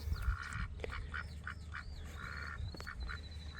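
On a homestead, ducks give a series of nasal quacks at a fairly steady pace, close and moderately loud, with some handling noise in the background.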